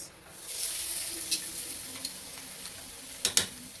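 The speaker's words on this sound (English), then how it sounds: "I'm now going to add my salmon to the pot." Salmon hitting a hot cooking pot sets off a steady, close sizzle of frying that holds throughout, with a few sharp clicks and taps from utensils toward the end.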